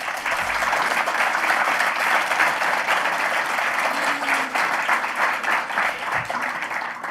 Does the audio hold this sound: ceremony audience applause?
yes